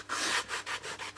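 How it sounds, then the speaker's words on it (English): Scrunched sandpaper rubbed along the leading edge of a model aircraft tail fin, giving steady back-and-forth scratchy strokes, close and soft, about five passes in quick rhythm. "The only thing we have to use is some sandpaper like this, and we scrunch it together and then just"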